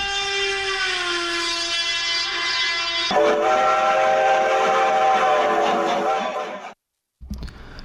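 A train sound effect opens a rail news segment on an Urdu news bulletin. A loud sustained train horn or whistle shifts pitch partway through, then cuts off sharply, leaving a brief silence and a short tail.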